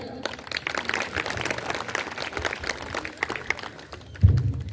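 An audience at a humorous poetry gathering at a government school function claps, with scattered hand-claps spread over a murmur of voices and a thump near the end.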